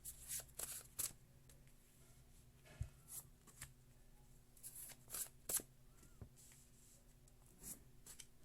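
Playing cards being shuffled in several quick riffling bursts, close and fairly quiet, with soft rubbing and handling noises between.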